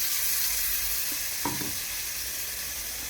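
Whole spices, turmeric, red chilli and green masala sizzling in hot oil for a Bengali rohu fish curry, a soft, continuous hiss with one brief scrape of stirring midway.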